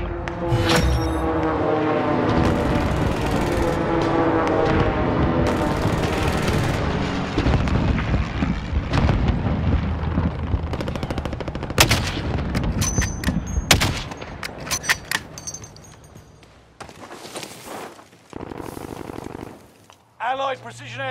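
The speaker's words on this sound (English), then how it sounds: "Allied precision airstrike incoming." Allied precision airstrike in a war video game: a dense run of booming blasts and rapid gunfire fills the first half, followed by scattered sharp detonations and pops over a rumbling background, with game voices mixed in.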